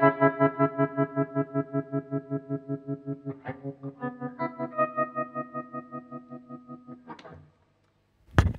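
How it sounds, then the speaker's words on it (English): An electric guitar plays through a Moore Trellicopter tremolo pedal, its sustained chords chopped into fast, even pulses, then a few ringing notes and a short pause before a sharp final strum. "Next in the switcher, we have the Moore Trellicopter."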